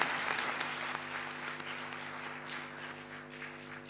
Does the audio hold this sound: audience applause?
yes